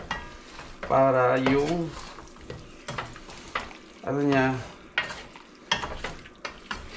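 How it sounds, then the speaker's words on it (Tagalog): Chicken tinola pieces with garlic and ginger are stirred in a sizzling pot, steady frying hiss with scraping stirs, while someone talks over it in bursts. "Saka natin ngayon haluin mga kabuli."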